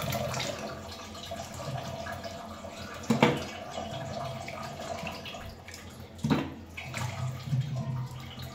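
Tap water runs steadily while meat and vegetables are washed, a continuous close splashing with two brief clatters partway through.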